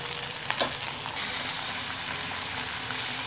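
Finely chopped garlic and green chili sizzling in hot oil with onion in a pan, a steady close crackling fry with a light stirring scrape near the start.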